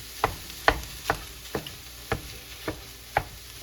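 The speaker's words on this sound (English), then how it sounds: "So we're going to put in our sausage. And we'll break it up a bit, and we're just going to cook this" Sausage frying in a one-pot pasta dish, being broken up with a spoon: a steady sizzle with about eight sharp, regular scrapes and knocks against the pot, close and clear.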